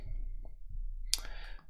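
A single sharp mouse click on a Next button while working in Business Central software, close and crisp over a faint low hum.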